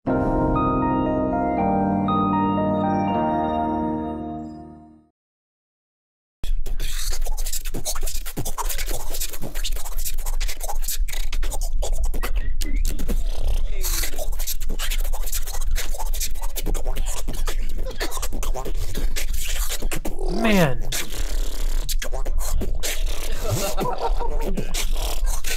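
At a Grand Beatbox Battle, a beatboxer unleashes harsh, scratchy, growling vocal effects that imitate distorted demonic noises, delivered in rapid bursts after a short musical intro and a brief silence.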